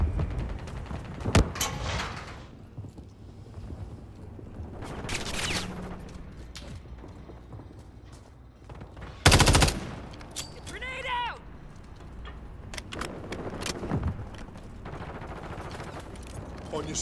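Gunfire from a Call of Duty MW3 team deathmatch match, with sharp bursts and single shots scattered throughout, a loud close volley near the middle, and game voice callouts heard between them.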